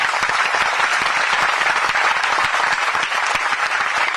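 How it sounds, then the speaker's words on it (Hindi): A crowd at a protest gathering claps for the people being saluted, a loud, dense and steady round of applause that fills the whole stretch with no voices over it. "एक बार इन सबके लिए तालियां बजा दीजिए"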